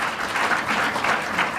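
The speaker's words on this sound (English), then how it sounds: "I like they just start clapping like mid-sentence" Audience applause breaks out during a political speech, a steady, dense wash of clapping from a large crowd that holds at an even level throughout with no voice on top.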